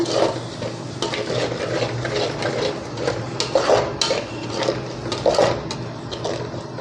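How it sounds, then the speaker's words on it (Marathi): Ground onion-garlic masala paste fries in oil in a pan while a spoon stirs it steadily, with repeated scraping and clinking against the metal over a soft continuous sizzle, close and moderately loud. "हे आपण परतलेलेच आहे, तरी पण मी पुन्हा हे थोडंसं तेलावर परतून घेणार आहे"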